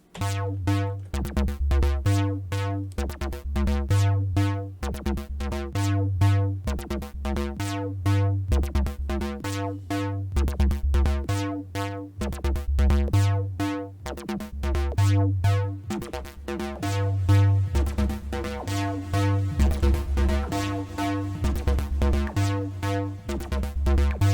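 A looping Sytrus synthesizer preset plays on its own without effects, a steady bass pulse under repeating bright tones, dry and even in volume with no voices.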